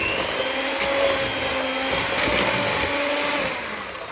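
Electric mixer whirs steadily, beating butter and sugar for a chocolate cake, a loud constant motor drone with slight wobble that eases off near the end.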